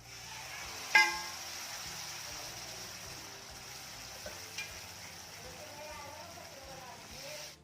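Cooked dal, already salted, goes into a sizzling tempering spiced with coriander-cumin powder for dhaba-style dal fry. One sharp splash opens a steady hiss that continues with a few light clinks, while a voice murmurs faintly underneath.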